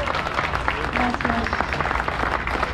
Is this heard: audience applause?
yes